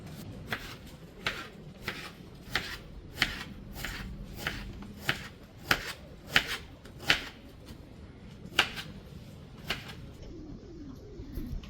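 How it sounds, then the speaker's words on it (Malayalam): A knife chops onion on a cutting board in a home kitchen while beef roast is being prepared, giving a steady series of sharp, fairly quiet taps at roughly even intervals that slow and fade toward the end. "ഉള്ളി അരിയാൻ പോട്ടോ"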